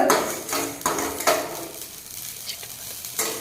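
Mustard seeds crackling and popping as they fry in hot oil for a mango pickle, with a steady sizzle broken by sharp bursts and the scrape of a stirring spoon against the pan, up close and with no talk.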